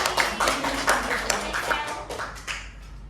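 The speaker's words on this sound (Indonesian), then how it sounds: "Tepuk tangan untuk diri sendiri." A small group of students in a classroom clap their hands in a few loose bursts, close and fairly sparse, tapering off as it ends.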